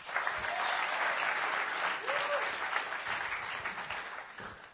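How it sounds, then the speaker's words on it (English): Audience applause at a tech event in San Diego, a sustained burst of many hands clapping at moderate distance, with faint voices mixed in. "So give a round of applause for Lisa."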